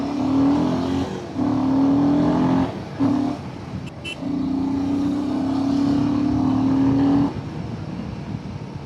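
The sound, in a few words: Royal Enfield motorcycle exhaust note, throttle revving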